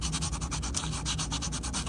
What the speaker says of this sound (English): Sanding on this kind of material, both the chipboard and the museum board